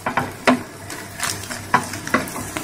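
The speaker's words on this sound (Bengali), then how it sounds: "এক পিঠ হয়ে গেছে, এবার আমি অমলেটটা উল্টে দিচ্ছি।" Egg omelette frying in a pan as it is flipped: a steady sizzle under sharp scraping and tapping of a spatula, several distinct clacks spread across a few seconds, close and fairly loud.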